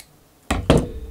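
Two close, quick crunching snips cut through cable sleeving in a workshop, a pair of sharp loud cuts a moment apart.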